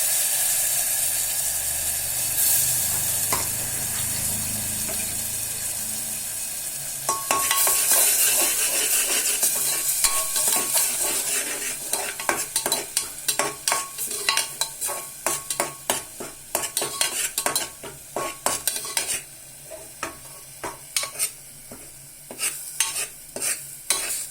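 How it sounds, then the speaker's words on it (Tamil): Raw ground masala stirred in a hot pan, first a soft sizzle, then rapid repeated spatula scrapes and clatter against the metal, close and fairly loud. "இந்த பச்சை வாசம் போட வரையில கொஞ்சம் நேரம் கிளறி விட்டுக்கலாம்"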